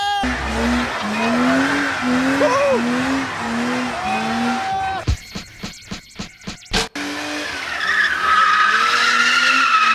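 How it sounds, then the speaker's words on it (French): Loud tire squeals whine over a roaring engine, then a burst of rhythmic revving pops before the squealing and engine noise resume; voices talk underneath. "Ça fait crisser les pneus là."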